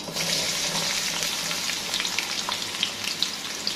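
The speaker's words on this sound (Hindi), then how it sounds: "तो अब मैं इसमें करेले ऐड करूँगी जो हमने कट किए हैं।" Cut bitter gourd (karela) pieces sizzle and crackle steadily in hot cooking oil, a close, continuous frying hiss with small pops and no talking.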